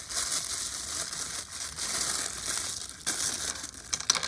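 Fancy Autobot-themed wrapping paper is pulled off and unwrapped right at the microphone, a loud, continuous crinkling and crumpling rustle with a few sharper crackles near the end.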